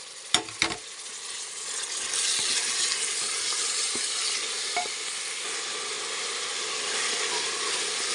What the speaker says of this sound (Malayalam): നല്ലോണം അങ്ങോട്ട് വഴറ്റി കൊടുക്കാം